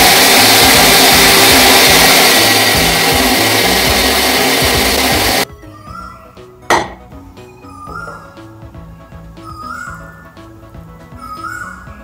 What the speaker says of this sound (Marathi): मिक्सरच्या भांड्यामध्ये घालून अगदी पूर्णपणे तांदूळ वाटून घेतलेला आहे